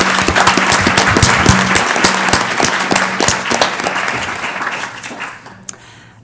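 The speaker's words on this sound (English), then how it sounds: "Another round of applause" An audience applauds students and staff at an evening presentation event, with sustained clapping from a large crowd that thins and fades out near the end.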